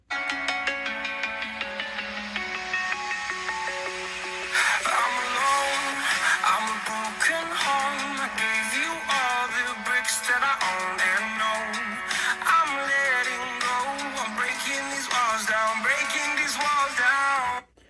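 A song with vocals and instruments plays loudly through a small iPhone 13 mini speaker at full volume, continuous for the whole stretch and ending abruptly, with no one talking.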